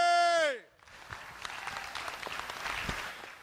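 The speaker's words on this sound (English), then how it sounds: "Give him a round of applause also" Crowd applause builds after a sustained tone fades, a steady wash of clapping from an audience with some cheering mixed in, continuing evenly to the end.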